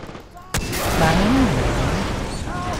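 Gunfire in the video game Far Cry 3 starts with a sharp shot, then rolls into sustained dense firing and explosive rumble, with a voice shouting over it.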